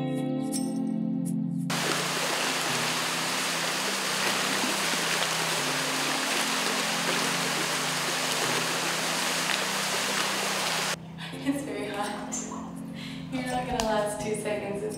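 Shower water running in a doorless open shower, a strong steady hiss of spray that starts abruptly and cuts off near the end, with people talking before and after.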